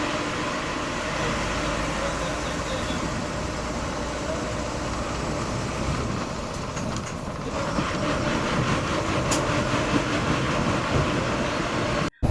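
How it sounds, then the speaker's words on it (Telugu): An APSRTC Super Luxury bus cruises along a highway with a steady, loud, broadband road and engine roar that runs without a break, then cuts off abruptly at the end. "ఒక 10 నిమిషాల హాల్ట్ తర్వాత మన బస్ తిరిగి బయలుదేరింది."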